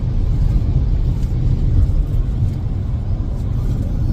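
A car drives along a winter road toward the mountains near Jackson, New Hampshire, its engine and tyre rumble a loud, steady drone from inside the cabin.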